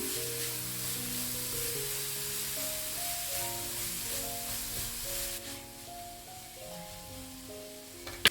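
Grated carrot and sugar cooking in a pan for carrot laddu give a faint, steady sizzle that runs evenly through the whole stretch, with no one speaking.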